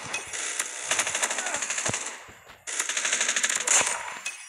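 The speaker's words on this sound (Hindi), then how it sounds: "हमारी मशीन गन बहुत काम कर रही है" A machine gun fires in a Call of Duty ranked match, loud rapid bursts of shots in two long strings split by a short pause, with a few single shots near the end.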